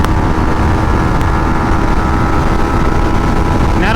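A Yamaha MT-15 motorcycle at top speed, around 140 km/h, gives a steady, loud engine drone mixed with heavy wind rush that holds without a break.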